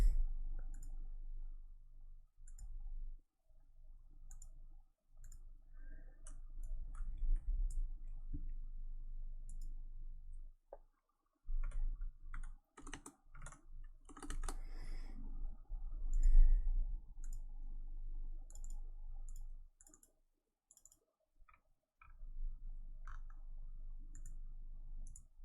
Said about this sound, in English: I mashed my keyboard there a little bit too hard.